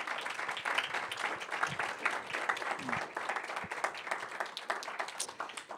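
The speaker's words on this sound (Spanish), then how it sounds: "Ahora sí, damos un aplauso a nuestras ofrendas." A church congregation in Denver applauds during an offering moment, many hands clapping in a steady, moderately loud wash of applause with no break.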